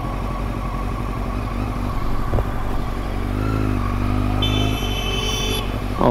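A motorcycle engine drones through road traffic, its note rising and falling as it passes close by, mixed with steady engine noise from other vehicles and a short high electronic tone near the end.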